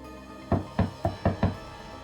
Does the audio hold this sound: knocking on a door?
yes